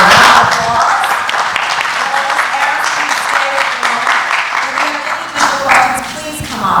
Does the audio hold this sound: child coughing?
no